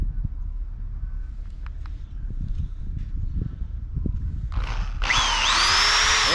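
A power drill bores holes through a truck cab's headliner to mount a new visor on a cabover truck; after a stretch of low rumble, the drill kicks in loud and close near the end and whines steadily.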